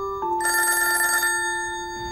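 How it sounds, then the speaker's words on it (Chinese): A telephone rings with a bright electronic trill that swells for about a second and then fades into a lingering steady tone, alone and close. "电话响。"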